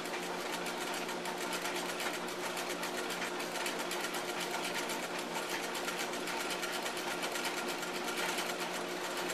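A treadle sewing machine runs continuously at a steady, even pace, its rapid rhythmic stitching clatter close and alone with no voices.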